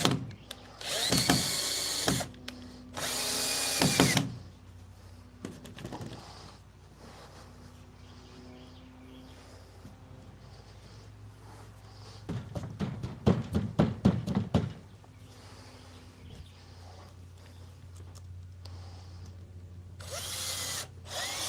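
A power drill drives Phillips head screws into wood in several loud, close bursts of whirring. Each burst ends in a ratcheting clatter, with quieter handling and pauses between the screws.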